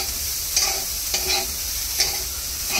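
French beans being stirred in a frying pan with garlic, a constant hiss of frying broken by three or four brisk spatula scrapes against the pan, close up.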